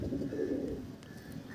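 Pigeons in a loft give a soft, low coo near the start, faint and close, then fading into quiet room tone with a few light chirps.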